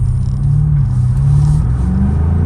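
BMW M5 Competition driving, its engine a loud, steady low drone from inside the cabin, with the pitch climbing slowly as it pulls through a gear.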